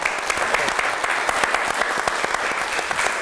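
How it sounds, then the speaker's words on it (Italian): Loud, dense applause from an Italian TV studio audience, steady clapping throughout with no pauses. "Un applauso per i nostri ospiti di sala."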